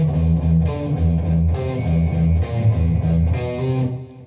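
An electric guitar plays the Doom riff with pinched harmonics: a loud, close, rhythmic chugging figure with several sharp high squeals cutting through.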